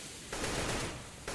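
AK-47 gunfire in a CS:GO match on Dust2, a dense continuous burst of automatic fire lasting about a second, fairly loud under a steady background hiss.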